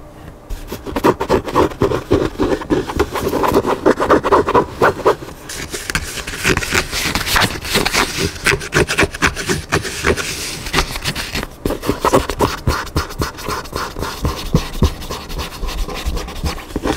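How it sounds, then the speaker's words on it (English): Dry scratching and scraping of fingernails across a book's cover and pages, continuous close-up rasping in quick strokes with a brief pause near the middle, no talking. "Now let's get into this book scratching."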